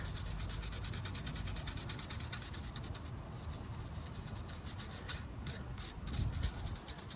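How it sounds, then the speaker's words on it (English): A nylon brush scrubs a piece of driftwood in a run of quick, rhythmic back-and-forth strokes, a close, steady rasping that continues throughout with no voices. "And then I'll hit it again with a nylon brush."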